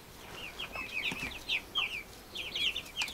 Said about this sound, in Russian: Курочки все кушают, перышки чистят.